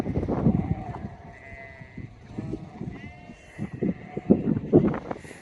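Sheep bleating on a mountaintop where they are being sheared, several animals calling in short, irregular bleats at close range.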